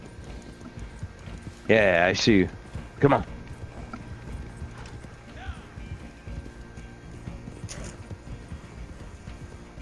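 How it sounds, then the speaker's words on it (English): Horse hooves clip-clopping at a steady gait while riding in a video game, a moderate rhythmic beat running beneath a voice, with a brief whinny early on. "I got my horse. I'm riding out."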